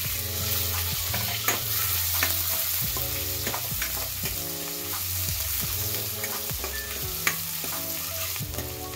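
Onion and curry leaves frying in hot oil, a continuous loud sizzle with repeated scraping stirs of a spatula against the pan throughout, no voices.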